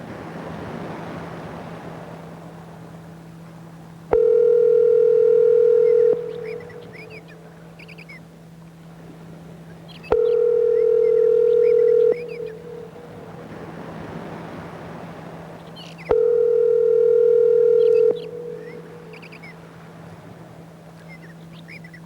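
A telephone rings out while someone places a call: three steady tone bursts, each about two seconds long and spaced several seconds apart, over a low background hum with no talking.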